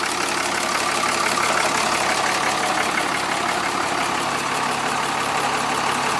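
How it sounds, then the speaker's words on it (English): A 6.7-litre Cummins diesel in a pickup truck idles steadily with its valve cover removed, a continuous dense mechanical clatter and hum close by with no talking. "this is the first time I've ever ran my truck with the valve cover off"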